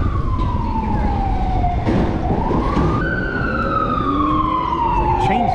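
An ambulance siren wails close ahead in city traffic, a steady loud tone sweeping slowly up and down over road rumble, with a brief warbling burst partway through.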